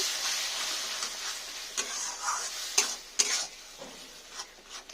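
Mutton masala with ground tomato paste being stir-fried in a pan, a soft continuous sizzle broken by scraping spoon strokes and a few sharp metallic clicks against the pan, close and fairly quiet with no talk.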